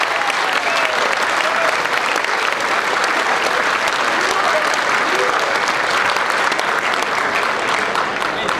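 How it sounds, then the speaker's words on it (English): A large crowd applauds steadily and loudly, dense continuous clapping filling the whole stretch, with a few faint voices mixed in. "go have a big round of applause for Peter Ramage, Stephen Taylor, Matty Patt"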